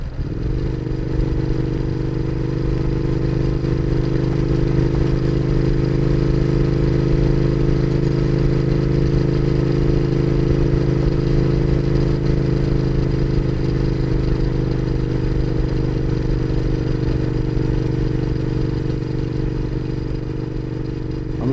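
A Royal Enfield Interceptor motorcycle cruises along a country lane in Wiltshire, its engine droning steadily and loud throughout with constant wind rush and no speech.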